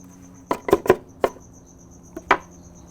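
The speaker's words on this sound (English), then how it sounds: "I've already minced this, but I'm going to, again, I just want it to be really finely minced." A knife finely mincing shallot and garlic on a cutting board, giving several sharp, close chopping knocks in a quick cluster and then a pause before two more, against a faint steady chirping of insects outdoors.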